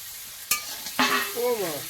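Fried prawns tip into a pan of Malabar spinach and potatoes, giving a sharp clatter followed by a close sizzle and a scraping stir, with no talking.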